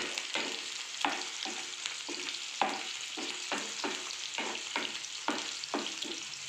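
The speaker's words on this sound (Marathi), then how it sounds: "कांद्याला आपल्याला लालसर होईपर्यंत" Chopped onions sauté in a hot pan until reddish, a steady sizzle broken by regular scraping stirs of a spoon, close and moderately loud with no talking.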